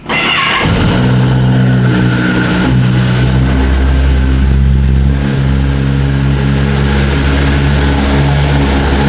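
A Kawasaki ZX10R superbike fires up with a brief starter whir, then settles into a loud, close, steady idle with a deep, even engine drone.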